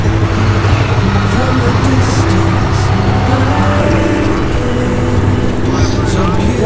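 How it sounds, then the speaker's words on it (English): A RZR side-by-side's engine drives off a trailer outdoors, giving a loud, steady, close engine drone with a rough, wind-blown noise over it. "this is the last time he's driving the RZR off the trailer"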